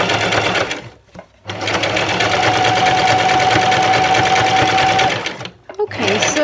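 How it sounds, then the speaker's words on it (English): Sewing machine stitching a Monstera leaf headband, a loud close steady motor whir that pauses briefly twice and starts again, with a person talking over it. "so as before, we sew right off the edge"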